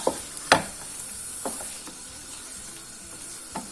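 Food roasts in a hot pan with a soft, steady sizzle. A few sharp clicks and scrapes of stirring sit on top of it, with one louder knock near the start.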